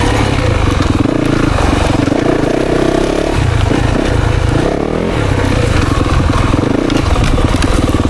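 A 2024 Yamaha YZ 450FX dirt bike ridden on a woods trail, its engine droning loud and close throughout with rising and falling revs, clattering and scraping from the rough terrain.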